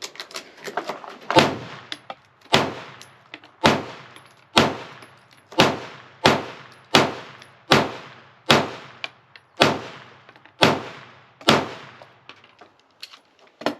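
A Smith & Wesson M&P 2.0 pistol with a compensator fires a full magazine outdoors: about a dozen sharp, loud shots at a steady, unhurried pace, each followed by a brief ringing decay.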